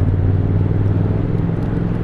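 A 2023 Triumph Speed Twin retro motorcycle engine drones at a steady, loud, close rumble while riding in fourth gear, with wind noise blended in and no talking.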